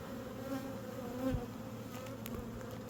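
Honey bees buzzing from frames lifted out of a hive, a steady close drone with a low hum and a few brief louder passes, no talking.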